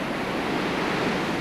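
Ocean surf at Montaña de Oro State Park, a steady loud wash of breaking waves with wind noise over the microphone, no voices.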